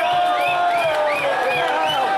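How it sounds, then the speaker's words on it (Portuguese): Football fans celebrating Leão's Copa Band Vale 2013 cup win, a loud sustained crowd roar with cheering and whoops, steady throughout with voices mixed in. "A torcida vem aqui fazer a festa."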